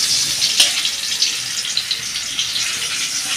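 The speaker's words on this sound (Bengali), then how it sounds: "আমি আলুগুলো এবার লাল লাল করে ভেজে নেব" Potatoes frying in oil until reddish for a mutton and potato curry, a continuous loud hissing sizzle with small crackles and one sharper spit near the start, no talking.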